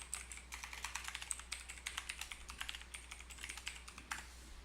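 Rapid, uneven keystrokes on a computer keyboard as a password is typed, a steady run of close, crisp clicks with no talking.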